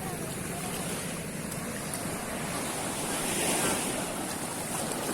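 Surf at Klayar Beach in Pacitan, East Java, a continuous dense wash of breaking waves, close and loud, blended with wind noise and no clear speech.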